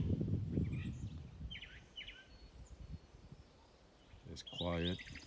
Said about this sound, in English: It's just birds singing.